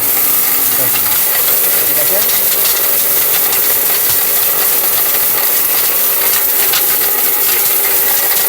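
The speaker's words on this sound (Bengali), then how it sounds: "আমার কাজ আমি করব ব্লেন্ডারের কাজ ব্লেন্ডার করবো" A powerful electric blender motor runs loud and steady for the whole stretch, a dense, unbroken whirring roar with no pauses and no voices.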